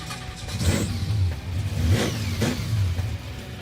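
A drag race car engine revs in rising and falling pulses, three or four throaty surges close by over a rough low rumble, with no talking.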